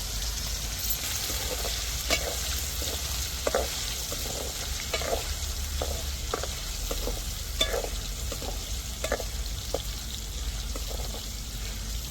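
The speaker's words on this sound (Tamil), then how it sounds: "இப்போ உணர வச்ச இறாலை நம்ம எண்ணெயில் அப்படியே போட்டு பொறிச்சு எடுத்துக்கிடுவோம்" Steady hiss and crackle of prawns frying in hot oil, with occasional clinks and stirring noises over the continuous sizzle.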